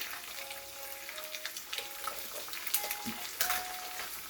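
Egg fries in hot oil for shrimp fried rice, giving a steady close sizzle with crackling pops and a few light clinks, with no talking over it.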